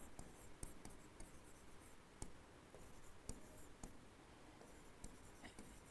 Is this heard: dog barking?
no